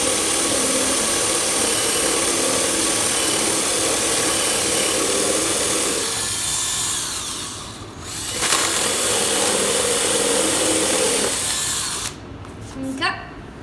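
A drill running at full throttle drives a half-inch speed bore bit through wood with a loud, steady whine that eases briefly midway, resumes and then cuts off as the bit breaks through.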